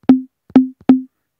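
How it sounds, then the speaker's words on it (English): Conga hits programmed in FL Studio Mobile for an Afrobeat beat: three close, punchy drum strikes, each with a short soft grace note just ahead of it, ringing briefly and evenly spaced, with no other sound. "This is the conga."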